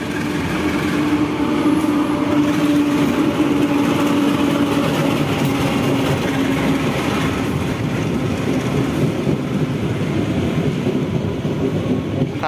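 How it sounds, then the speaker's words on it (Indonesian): A train coming from the direction of Pasar Senen station passes close by, a loud continuous rumble with rhythmic wheel clatter and engine drone sustained throughout, with no talking. "Persiapan melintas kereta api lagi teman-teman dari arah stasiun Pasar Senen."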